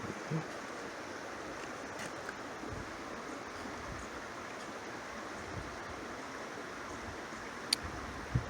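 Steady, broadband rush of flowing water, constant and moderately loud with no voices, like a creek running nearby.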